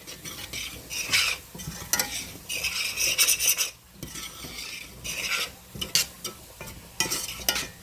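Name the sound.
stirring high protein clam chowder in a pot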